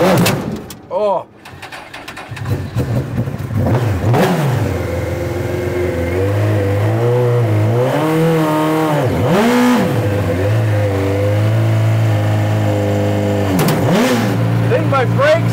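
A motorcycle-powered LeMons race car engine revs hard and repeatedly close up, each blip rising and sagging as it struggles with throttle, with a door clunk near the start and a voice speaking briefly.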